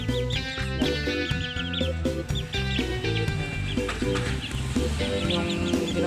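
Bantam Serama chickens cluck and chatter in a steady, busy stream of short calls, fairly close and loud, over a constant low background hum.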